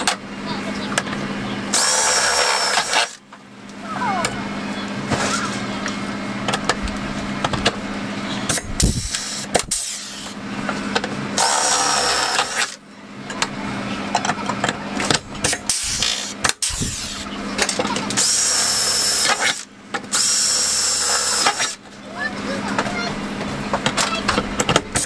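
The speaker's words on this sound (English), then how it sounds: "you can then go out and drill the rest of the holes out" A power drill bores holes for rib nuts into the metal body of a 144/170 Sprinter van while a ceiling bracer is fitted, its whine running in long loud stretches broken by short pauses, with talk in between.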